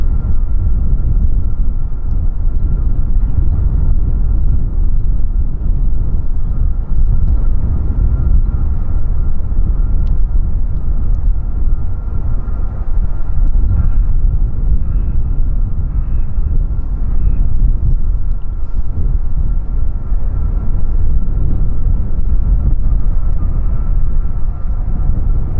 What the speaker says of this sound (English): There's another Embraer to Copenhagen taxiing out